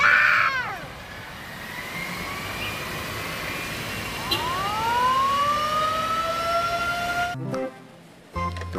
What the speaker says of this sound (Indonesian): Di sini ada truk pemadam kebakaran.